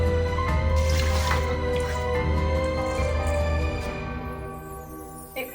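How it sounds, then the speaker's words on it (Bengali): Water is poured generously onto washed biryani rice in a rice cooker pot, a steady close splashing and trickling stream that tapers off over several seconds, with no talk. "একটু বেশি করেই জল দিচ্ছি"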